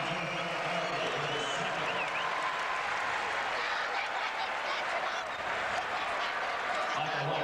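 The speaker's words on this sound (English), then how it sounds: "the Commodores and their crowd start the celebration" Basketball arena crowd roaring and cheering as the Vanderbilt Commodores celebrate against Ole Miss in 1997, a dense, steady wall of crowd noise with possible clapping and voices throughout.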